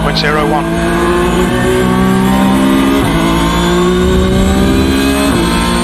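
A loud race car engine in iRacing roars and accelerates steadily, its droning pitch climbing gradually without a break.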